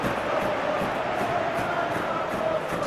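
Stadium crowd in a video game football match, a continuous dense roar of many voices with rhythmic swells, steady and fairly loud throughout with no clear commentary over it.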